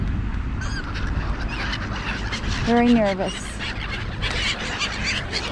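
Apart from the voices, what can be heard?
seagulls calling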